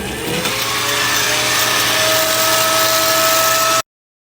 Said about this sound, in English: Here's a hairdryer.